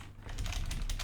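Rapid keystrokes tapping on a computer keyboard while entering code for a world chat script, fairly soft and close, a quick burst of clicks with no talking.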